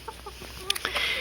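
A Pekin bantam rooster gives a few soft, short clucks at close range, with light rustling and a faint background hum.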